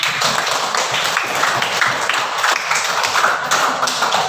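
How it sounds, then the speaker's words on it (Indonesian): Classroom students clap for their classmates in a steady, dense burst of applause that runs evenly from start to finish, close and fairly loud, with no talking over it. "Beri tepuk tangan untuk teman-teman."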